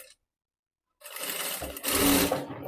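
Sewing machine stitching blouse fabric, a near, loud motor whir that starts abruptly after a second of silence and then runs continuously, rising slightly in speed toward the end.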